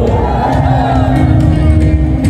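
A crowd at a Catholic parade of banners in Bulacan, Philippines, shouts together in a loud, sustained roar, a dense mass of voices filling the whole stretch.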